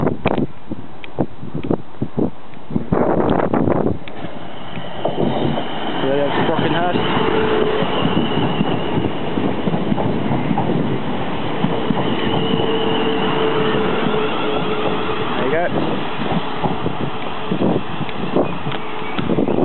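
A passenger train rumbles and clatters past at close range through Basingstoke station, with wheels briefly squealing and a steady mechanical hum, plus faint voices mixed in.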